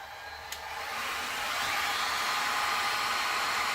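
A heat gun blows onto a resin pour on a bottle bottom, switching on with a soft click and swelling into a loud, steady, close airy roar.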